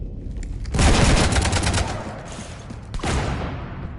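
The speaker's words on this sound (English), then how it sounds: "You want to stop shooting up my ship?" Heavy gunfire rakes a ship in the Mass Effect Citadel DLC, a loud sustained fusillade with rapid bursts that briefly fades, then a second loud burst near the end.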